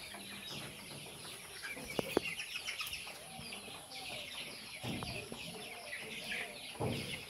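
Broiler chickens cluck and squawk at a chicken market, a busy cluster of overlapping calls with some wing flaps, heard close, with faint talking in the background.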